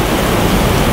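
Heavy rain pouring down steadily, a dense, loud, continuous hiss of drops on surfaces with no breaks and no voices.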